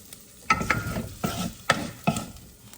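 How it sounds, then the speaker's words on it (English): A bamboo spatula scoops eggs onto meat in a skillet, giving four soft scraping strokes spaced about half a second to a second apart over a faint sizzle. "I take my bamboo spatula and I scoop up the eggs right on top of the meat."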